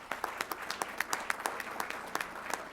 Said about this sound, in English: Please stand and face the others and give them a round of applause for what they do